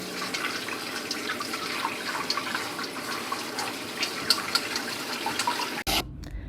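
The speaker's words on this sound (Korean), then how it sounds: "저는 야채를 꺼내자마자 바로 찬물 샤워 하도록 할게요." Cold tap water runs steadily into a sink over freshly steamed vegetables, a close, continuous splashing stream that cuts off abruptly near the end.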